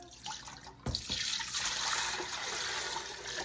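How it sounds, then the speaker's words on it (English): Water pours into a pressure canner for canning green beans, starting with a thump and then a steady, close splashing stream of liquid filling the pot. "You have to put 8 cups of water in here."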